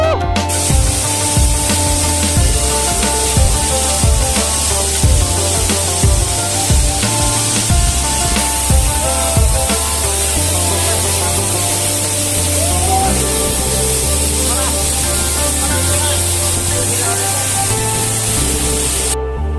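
Mailung waterfall (Bhange Jharna) in Nepal roars as a steady, loud wash of falling water and spray close by, unbroken throughout, with faint voices beneath.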